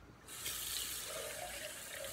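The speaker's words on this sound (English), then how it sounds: "So I'm gonna add actually just a bit of water," Water poured from a can into a pot of homemade spaghetti sauce, a steady splashing gush starting abruptly and continuing close up to the end.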